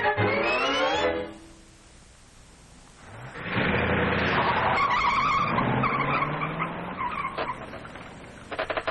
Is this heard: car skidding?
yes